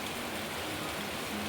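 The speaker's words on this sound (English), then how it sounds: "The rainy season is here." Rain falls steadily in a garden during the rainy season, an even, dense hiss of drops without pauses or voices.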